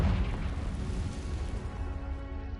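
A Confringo blasting spell explosion in the video game Hogwarts Legacy, a loud low boom at the start that rolls into a sustained rumbling decay.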